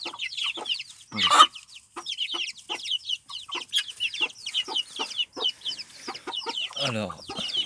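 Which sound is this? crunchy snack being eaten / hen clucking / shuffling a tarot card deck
hen clucking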